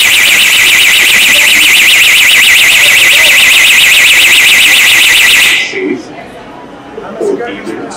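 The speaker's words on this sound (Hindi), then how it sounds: "क्या अलार्म बजा दिया था। अगर चोर भी आपके घर में आ जाएंगे तो ऐसा ही अलार्म बजेगा।" A security alarm demonstrated at a stall at a business expo in Jaipur blares loud and continuous with a rapidly warbling electronic tone for about five and a half seconds, then cuts off abruptly, leaving hall noise and faint talk.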